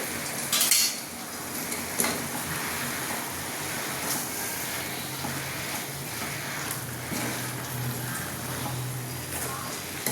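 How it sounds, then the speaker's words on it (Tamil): Chicken gravy sautéing in a pan, a steady close sizzle with occasional clinks and scrapes of a stirring utensil against the metal, continuous throughout with no talk. "நல்லா வதக்கிட்டு கிரேவி மாதிரி வைக்க வேண்டியது தான்"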